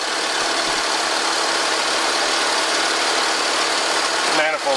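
A carbureted Ford F-100 engine idles in a garage with a loud, steady, close rumble and hiss that runs unbroken throughout.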